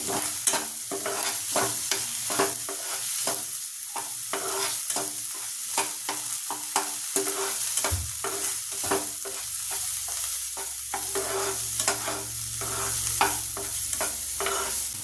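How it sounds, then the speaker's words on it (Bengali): Rohu fish curry ingredients with a little sugar being stirred and fried in a pan, a steady sizzle under repeated scraping strokes of a spoon, close and continuous with no talk. "বেশি দেবো না একটু কম পরিমাণে চিনি দেবো এটা একটু নাড়াচাড়া করে নেবো"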